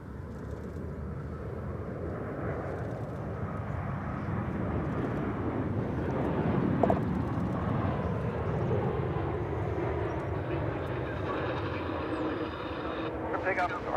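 An airliner takes off at Dallas/Fort Worth Airport on an RNF departure, a broad, steady engine roar heard from a distance that swells slightly midway, with faint talk underneath.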